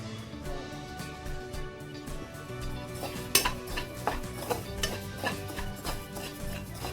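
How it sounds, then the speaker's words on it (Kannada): Black pepper frying and being stirred in a pan on one side of the stove, with a steady soft sizzle under scraping stirs and a few sharp utensil clinks against the pan, close and fairly quiet. "ಇನ್ನೊಂದು ಸೈಡಲ್ಲಿ ಮೆಣಸು ಕೂಡ ಫ್ರೈ ಮಾಡ್ತಾ ಇದ್ದೇನೆ"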